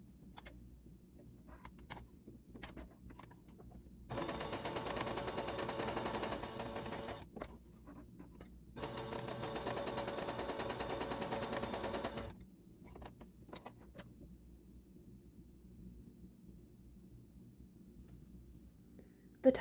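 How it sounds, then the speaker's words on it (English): A home sewing machine topstitches fabric bunting in two steady, close whirring runs of a few seconds each, separated by a short pause, with quiet handling clicks before and after. "before I start sewing, I'm going to increase my stitch length"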